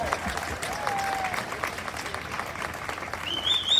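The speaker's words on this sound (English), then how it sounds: "let's give them all a round of applause for standing up" An audience at a political gathering opposing vaccine mandates breaks into steady applause, a dense wash of clapping that holds loudly for several seconds with a faint voice underneath.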